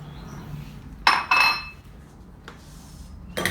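A metal lid clanks onto a pot of boiling water with kale and another vegetable, a couple of bright ringing knocks, then a quieter clink follows in an otherwise calm kitchen.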